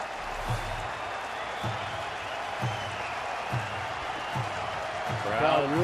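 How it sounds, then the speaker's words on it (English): Baseball stadium crowd at a San Francisco at Arizona game swelling into a loud, continuous roar with scattered cheers, sustained throughout under a commentator's voice. "Crowd really getting loud"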